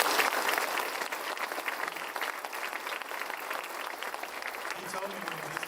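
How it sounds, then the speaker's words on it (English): Crowd applause at a ribbon cutting for a community accelerator and childcare business initiative, a dense, continuous wash of clapping from many people, fairly loud and unbroken, with a few faint voices underneath. "But let's give Vern a round of applause."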